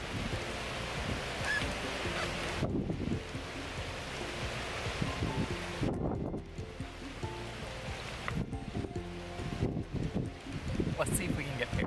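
Strong gusting wind buffets an outdoor autumn hiking trail, a steady loud roar with rustling surges, while a person talks over it.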